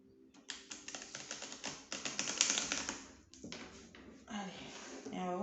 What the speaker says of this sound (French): je vais mélanger un petit peu avec mon oracle des météores